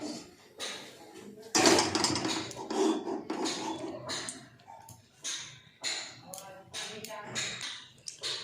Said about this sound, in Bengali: কড়াইটা নামিয়ে নিয়েছি গ্যাস থেকে, এবার বসিয়ে দেবো আবার।